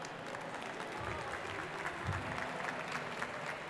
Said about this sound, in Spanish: un gran aplauso para Paz Álvarez.